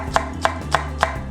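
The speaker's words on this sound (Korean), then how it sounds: "고기를 썰어 줄게요." A knife slices pork on a cutting board for kimchi duruchigi, making four evenly spaced, sharp chops close by over a low background hum.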